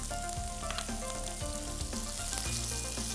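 Shallots and onions frying in a pan, a steady soft sizzle with occasional stirring scrapes, fairly quiet and continuous under background music.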